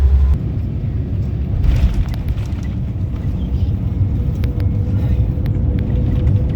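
A car driving along a road in Singapore, a steady close low rumble of engine and tyre noise from inside the vehicle, continuous and fairly loud throughout.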